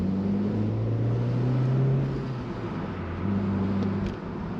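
A Honda CR-Z Mugen RZ with a six-speed manual drives on a mountain road. Its engine drones steadily from inside the cabin, with the pitch rising and falling through revs and shifts, and no talking.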